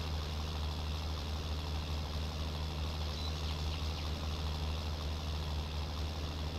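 A tractor pulling a chisel plow during spring tillage in Farming Simulator 19 gives a steady, droning engine hum with a deep low throb, constant and unbroken, with no voices.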